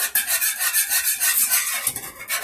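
A utensil stirs thick polenta in a pot, close and continuous, with scraping, rasping strokes against the pot in a loose repeating rhythm, heard alone.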